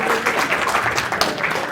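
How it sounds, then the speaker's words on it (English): A lecture class bursts into brief, dense applause, many hands clapping steadily at moderate volume for under two seconds. "Turning bad assignment writing into applause."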